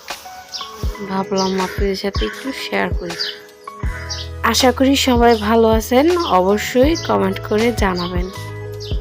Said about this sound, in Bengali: সকাল সকাল পাখির কিচিরমিচির আওয়াজটা